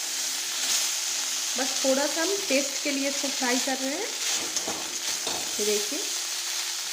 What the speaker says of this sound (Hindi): ये देखिए बस थोड़ा सा हम टेस्ट के लिए इसको फ्राई कर रहे हैं